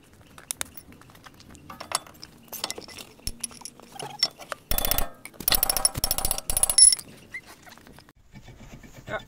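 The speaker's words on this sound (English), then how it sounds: "after hitting multiple times, the old disc came out" Hammering on an old, seized front brake disc of a Ford Focus MK1, with sharp metallic strikes coming in irregular bursts of close, loud blows, alongside lighter clinks and taps.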